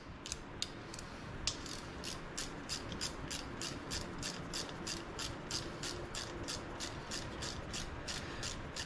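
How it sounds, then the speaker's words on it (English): A ratchet socket wrench clicks in a steady run of quick, even ratchet strokes while tightening a 7/16 bolt on the cam chest of a 2018 Harley-Davidson Street Glide, close and fairly quiet over a low background hum. "So let me grab that socket and I'm going to run that down"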